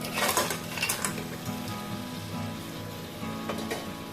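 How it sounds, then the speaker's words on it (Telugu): Washed crabs drop into hot oil and masala and sizzle: loud bursts of frying crackle at first, then a steady close hiss with a few utensil knocks and stirring scrapes. "ఇప్పుడు మనం కడిగి పెట్టుకున్నాం కదా క్రాబ్స్, అవి వేస్తున్నాం."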